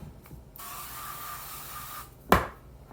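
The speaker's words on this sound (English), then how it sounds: "I'm going to give them a good spray with my olive oil spray." A steady hiss of an olive oil cooking spray runs for about a second and a half, followed by a sharp clunk close by.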